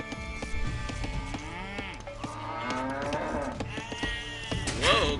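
Cattle in the Age of Empires II game moo several times, long drawn-out calls close by that overlap one another, with light clip-clop sounds beneath.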